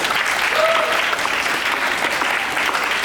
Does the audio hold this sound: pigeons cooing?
no